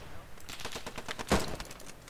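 Rapid gunfire in the World War II shooter Post Scriptum, a fusillade of fairly faint, distant rifle and machine-gun shots with one louder nearby crack, heard under voice chat.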